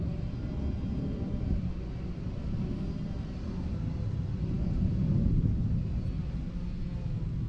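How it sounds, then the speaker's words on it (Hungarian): An airplane climbing out after takeoff from Ferihegy airport gives a steady, broad roar and rumble that holds for several seconds and swells slightly toward the end, heard from outdoors at a distance. "És nemrég szállt fel egy repülő Ferihegyről."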